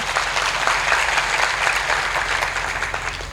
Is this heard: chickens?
no